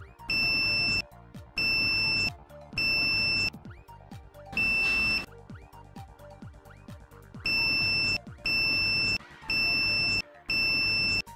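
A multimeter gives continuity beeps while testing the stator windings of a car alternator that has a short circuit. Eight loud, steady, high-pitched tones, each about a second long, repeat with short gaps between them.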